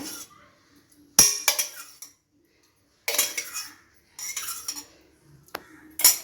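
Almond pieces drop into glass tumblers in a few separate bursts of light clinking and rattling, with quiet pauses between them.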